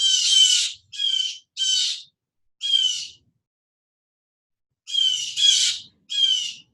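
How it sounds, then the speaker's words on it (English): Bright chirping bird calls come in short bursts, four close together, a pause, then three more, clear and near against an otherwise silent background with no talking. "We're just going to give a few minutes of our presence to beautiful songs of the birds."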